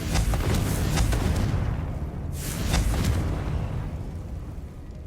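Two bursts of the Confringo fire spell in Hogwarts Legacy land about two seconds apart, each a sharp crack followed by a rolling rumble. The blasts are loud and there is no talking over them.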